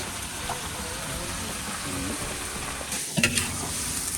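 Sponge gourd (patola) frying in a pan at an outdoor provincial home, with a steady faint sizzle and a few brief stirring clatters near the end.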